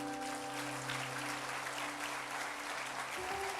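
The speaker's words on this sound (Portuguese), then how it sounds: "Vamos aplaudir a palavra do Senhor?" A church congregation applauds, with soft, steady clapping spread across the room beneath sustained keyboard tones, heard at a distance and fairly faint.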